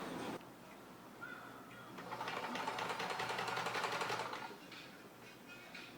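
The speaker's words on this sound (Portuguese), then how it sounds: "E vamos passar a costura." A sewing machine stitches pouf cover fabric pieces together in one rapid, even burst of needle chatter lasting a couple of seconds, close and moderately loud against a quiet room.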